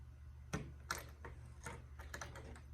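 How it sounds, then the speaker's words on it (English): Line cutters snipping the tag end of fishing line after tying a Palomar knot, a few short, close clicks and snips spaced over a low background hum. "now I'm gonna use my line cutters to cut that tag"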